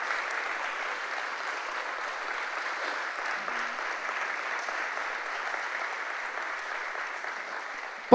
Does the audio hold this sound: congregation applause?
yes